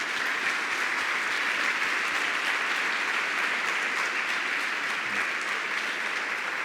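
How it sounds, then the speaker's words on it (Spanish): A church congregation claps in sustained, even applause, a steady wash of many hands heard at moderate distance throughout, without talk over it. "Y este aplauso es para la gloria de Dios."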